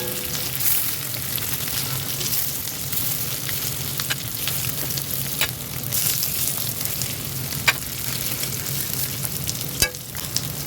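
Onions fry in a pan at home, a steady loud sizzle with occasional scraping clicks of a spoon stirring, no voices.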